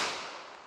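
A single 9mm handgun shot with a 5-inch barrel, fired outdoors on a range: a sharp crack with a short fading tail, heard alone and fairly distant.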